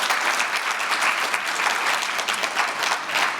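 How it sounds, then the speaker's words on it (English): Indoor audience applause for panel speakers joining a platform, dense continuous clapping at even loudness across the whole stretch, no talking over it. "Give them a round of applause, please."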